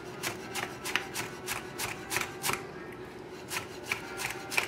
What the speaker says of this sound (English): And I'm going to cut everything the same size.